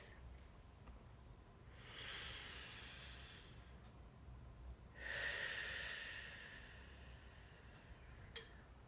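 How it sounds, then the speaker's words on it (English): Slow, deep breathing during a group session: two long, soft hissing breaths drawn and released, faint and close against a quiet background. "So take a deep breath."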